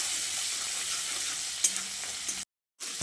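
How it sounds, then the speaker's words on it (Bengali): A tempering of dry red chilli, crushed ginger, green chilli and asafoetida fries in hot oil with a dense, loud, steady hiss and a couple of light stirring taps, cut off abruptly by a brief silence. "এবার ফোড়নটাকে কিছুক্ষণ ভেজে নিতে হবে।"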